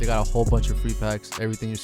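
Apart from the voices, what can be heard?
No everyday noise stands out behind the speech.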